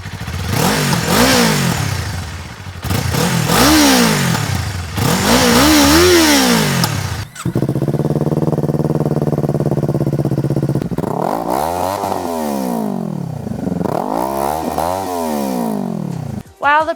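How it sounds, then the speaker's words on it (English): Kawasaki Ninja 500 and Ninja 400 motorcycles with slip-on exhausts rev one after the other, loud close engine blips rising and falling in pitch, a steady idle drone between bursts, then another series of sharp revs. "Let's hear them both back to back."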